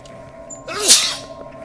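One sharp, loud sneeze close to the microphone during a tabletop game session, a quick indrawn breath followed by a forceful burst, with quiet room sound around it.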